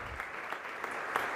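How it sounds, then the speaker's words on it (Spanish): A church congregation at Sunday Mass applauds first communion children, a short burst of crowd clapping heard at moderate level with a roomy, reverberant quality. "Vamos a darle un aplauso."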